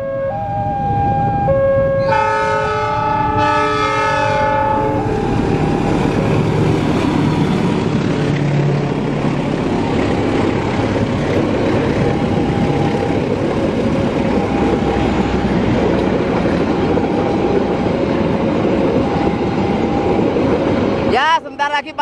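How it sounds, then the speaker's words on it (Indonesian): Wijaya Kusuma passenger train rolling through railway level crossing JPL 92, a loud continuous rumble of wheels and cars passing close by, opening with horn-like tonal blasts, with traffic and crossing noise around. "Selamat datang kereta api"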